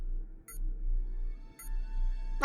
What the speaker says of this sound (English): Why is my helmet beeping?